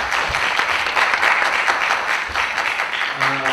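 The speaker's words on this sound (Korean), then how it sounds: "다시 한번 큰 박수 부탁드립니다." An audience claps at a school information session for an international school project, a dense round of applause that swells and fades slightly, with no talk over it.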